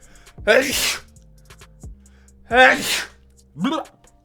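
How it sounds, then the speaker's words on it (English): Three sneezes in a row, each a sharp noisy burst, the last one smaller, with a voice murmuring softly between them. "I'm gonna sneeze."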